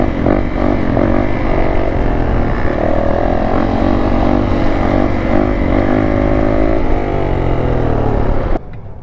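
A 2018 Yamaha YZ450F four-stroke dirt bike engine roars steadily while being ridden, its pitch rising and falling with throttle, loud and close throughout before cutting off abruptly at the end.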